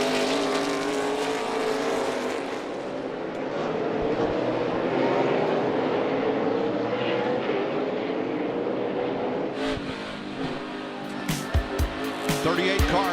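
NASCAR Cup Series stock cars race around the Sonoma road course, engines roaring and shifting as the pack sweeps past with some tire squeal, under a commentator's talk.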